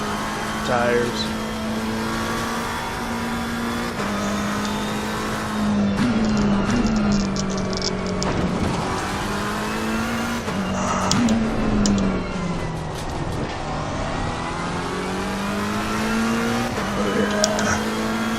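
Race car engine from the Assetto Corsa Competizione sim racing game, running steady and loud through an out lap to warm the tires, with a sustained drone that rises and falls as it shifts and accelerates, heard under talking.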